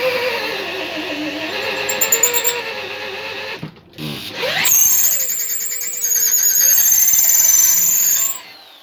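Power drill boring a hole into a knife handle, a loud high squealing whine that cuts out briefly near the middle, then resumes strong and sustained up close.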